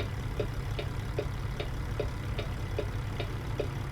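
A truck engine idling in the American Truck Simulator video game, a steady low rumble with a soft regular ticking pulse, continuous and alone at moderate level.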